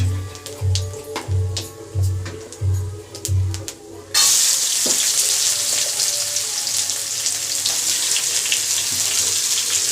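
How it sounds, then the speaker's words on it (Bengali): Onion and vegetables drop into hot oil with panch phoron and dried red chilli. After a few rhythmic low thumps, a sudden loud, continuous sizzle fills the rest, close and without talk. "তেল গরম হয়ে গেছে পাঁচ ফোড়ন আর শুকনো লঙ্কা ফোড়ন দিয়ে একে একে সব সবজিগুলো আমি দিতে থাকব"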